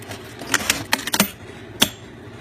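A sewing machine tacks a stretch beanie hat with a few quick mechanical clacks and needle taps, a sparse irregular burst up close followed by one final stitch.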